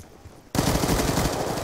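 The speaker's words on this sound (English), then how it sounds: "He's got a sentry gun in the middle." Rapid automatic fire from a sentry gun in a capture-the-flag video game match, starting abruptly and running as a loud, steady rattling burst to the end.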